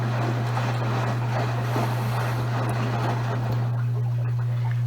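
Maytag washer sloshing deep water with a towel during the rinse cycle: a continuous watery churn and swish over a steady low motor hum, close and even throughout.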